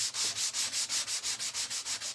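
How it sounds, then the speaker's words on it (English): Repeated back-and-forth sanding strokes on a painted wooden breadboard, a rasping scrape in a steady rhythm of about six strokes per second, close and loud. "So then we're going to distress it a little bit with sanding it down."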